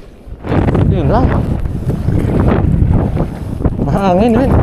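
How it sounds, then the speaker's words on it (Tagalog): Strong wind roars over the microphone on a small boat among the mangroves, steady and loud, while people talk over it. "Mahangin eh."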